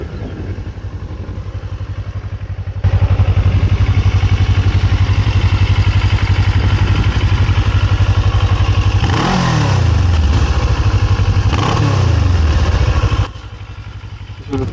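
A Kawasaki ER6N motorcycle engine cranks over and catches, settling into a loud, steady near running note with a couple of rising revs toward the end before dropping back.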